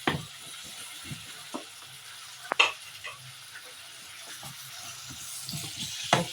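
Leafy greens tossed with spring onion and chili in a pan, giving soft scraping stirs and light sizzle with occasional sharper clinks of the utensil, fairly quiet and steady.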